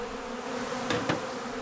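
Honeybees buzzing on a brood comb of fresh brood with the queen surrounded by worker bees, a steady close hum of many insects with a couple of brief louder passes.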